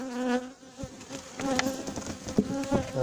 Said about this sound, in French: il y a pas mal d'abeilles au fond, hein. C'est vraiment un bel essaim.